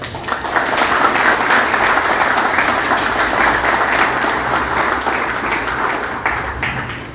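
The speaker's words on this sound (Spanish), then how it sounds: "A ustedes, un fuerte voto de aplausos." Sustained applause from an audience at a political party's ideological training school, greeting a speaker, a loud, even roll of many hands clapping with scattered sharper claps, continuing steadily before easing near the end.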